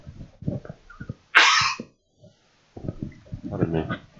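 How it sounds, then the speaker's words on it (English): During live chess commentary, a single sharp cough bursts out between stretches of someone talking, loud and close, followed by a brief quiet pause before the speech resumes. "Just wish I could shake this cough."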